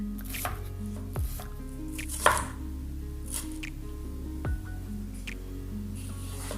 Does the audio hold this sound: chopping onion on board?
yes